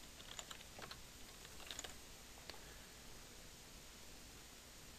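Keys on a computer keyboard clack in a quiet run of irregular taps during WordPress post editing, faint against a steady background hiss.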